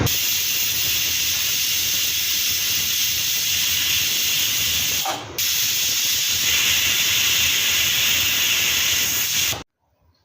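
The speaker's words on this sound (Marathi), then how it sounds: "कुकरला झाकण लावून याच्या मी फास्ट गॅसवर दोन शिट्ट्या करणार आहे" A pressure cooker holding chicken biryani on a high gas flame lets out a loud, sustained steam hiss, briefly interrupted midway, then stops abruptly near the end.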